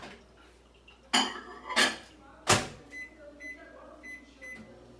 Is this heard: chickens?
no